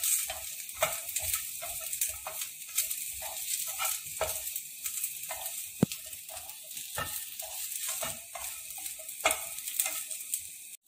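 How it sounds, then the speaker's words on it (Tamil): Small onions frying in a pan for black urad dal chutney give a steady close sizzle, with a stirring spoon scraping and tapping in uneven beats and no talking. "வெங்காயம் நல்லா வணங்கி வச்சுங்க."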